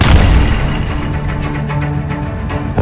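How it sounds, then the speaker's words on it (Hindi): Heavy booms from Israeli air force bombs and missiles striking Gaza roll out in a dense, rumbling blast that slowly decays. "इजरायली वायुसेना ने विनाश की हद तक बम और मिसाइलों से हमले किए हैं।"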